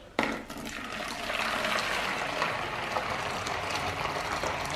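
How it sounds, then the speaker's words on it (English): Hot water pours steadily into a container with a continuous gushing splash, starting abruptly and staying fairly loud throughout. "So I'm going to add in hot water."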